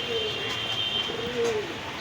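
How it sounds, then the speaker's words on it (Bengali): Pakistani high-flyer pigeons coo in low, throaty bursts, one rising and falling call standing out, against faint steady background noise. "অনেক স্পুরি কবুতর"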